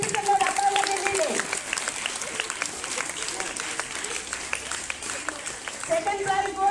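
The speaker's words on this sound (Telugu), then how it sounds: "చప్పట్ల వినిపించండి" Applause from a school crowd at an Independence Day celebration prize-giving, sustained dense clapping across the whole stretch, with a voice talking over its start and end.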